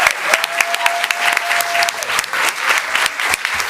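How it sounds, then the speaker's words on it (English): Loud, close applause from a board of education meeting audience for awardees: dense, continuous clapping with crisp individual hand strikes standing out, sustained without letup. "let's give another round of applause to all our awardees"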